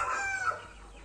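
A KOB chicken gives a short, brief vocalization, close by, fading into quiet farmyard background.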